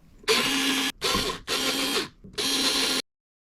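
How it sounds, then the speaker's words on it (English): A power drill or driver removing pre-installed screws on a ceiling fan before its blades go on: four loud, close whirring bursts with short pauses between them, then silence. "Now just unscrew the pre-installed screws and put the blades on one at a time."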